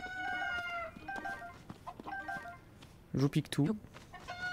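Hens cluck and crow in Zelda: Tears of the Kingdom, a few sharp bursts over soft background music while someone speaks briefly.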